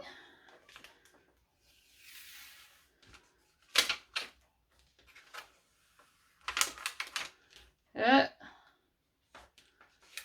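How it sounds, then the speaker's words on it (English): Adhesive backing peeled off a vinyl strip for tassel making, heard as a few short crackly tearing bursts close by, separated by quiet gaps. "So now I've just got to peel off this backing."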